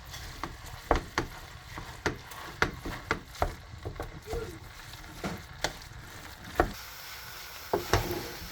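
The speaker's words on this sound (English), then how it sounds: "as you're stirring it, try to use the I need to use this. Try to use your spatula to break down the pumpkins." A spatula stirs and breaks down pumpkin pieces in a pan for a pumpkin and sweetcorn dish: steady, roughly once-a-second scrapes and soft knocks over a faint sizzle.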